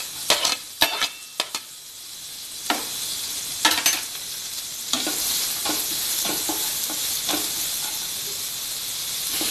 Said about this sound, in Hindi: एक मिनट इसको ऐसे चला लेते हैं, थोड़ा भून जाएगा।